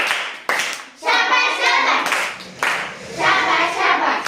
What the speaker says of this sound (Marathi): आपण विठूसाठी शाबासकीची टाळी देऊया